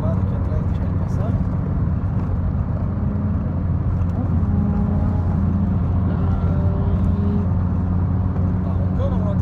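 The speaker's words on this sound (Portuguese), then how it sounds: "Tá roncando a moto" A motorcycle engine roars loudly and steadily at night, a continuous low drone from close by that holds throughout, with road traffic around it.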